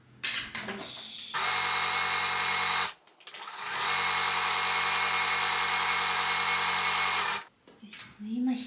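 A sewing machine stitches the side seam of a lightweight fabric bag in two long steady runs, a loud close whirring hum broken by a short pause and ending with brief handling sounds.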